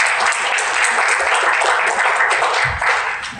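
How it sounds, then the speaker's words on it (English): Dense, continuous applause from an audience at a tech conference talk, a loud, even wash of many hands clapping with no gaps. "isn't that applause worthy?"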